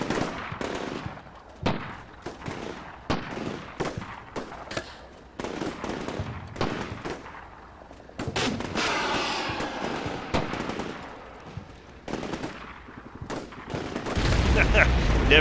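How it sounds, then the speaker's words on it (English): A Javelin anti-tank missile launcher fires during infantry training near the Black Sea, a series of sharp bangs and cracks followed by a louder, rushing blast with a long roaring tail toward the end. "Let's see it shoot again, because I never get sick of watching this Javelin shoot."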